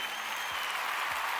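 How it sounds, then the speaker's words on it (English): Steady wash of applause on a livestream, filling the whole moment at an even, moderate level with no clear gaps or individual claps standing out. "I need a clap"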